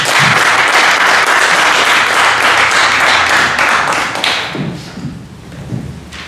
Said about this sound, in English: I want you guys to please give a big round of applause for my buddy, Brent Schreiber.